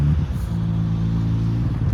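A car being driven onto a car-carrier truck gives off a close, steady low engine rumble with a slight rise in revs, without talk.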